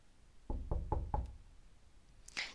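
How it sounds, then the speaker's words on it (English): Four quick, heavy knocks rap on a door in hurried succession, close and solid, followed by a brief pause and a faint rustle. "Natsuki practically runs up to her door, knocking hastily."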